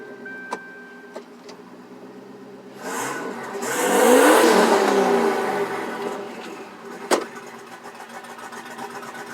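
A turbocharged Lincoln Town Car engine revs up in a single swelling burst, peaking and then settling back toward a steady idle, heard fairly close with a few sharp clicks around it.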